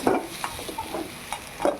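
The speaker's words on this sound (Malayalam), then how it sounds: "ആ തേങ്ങ ഞാൻ വെളിച്ചെണ്ണയിലിട്ടു വറന്ന് വരുന്നുണ്ട്." Grated coconut frying in coconut oil in a pan, soft with scattered light stirring and scraping clicks, fairly quiet and close, no voices.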